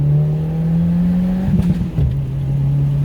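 Engine of a 2022 Subaru WRX heard loudly from inside the car, holding a steady drone before a brief stutter as the driver shifts and then settling back into a constant pull.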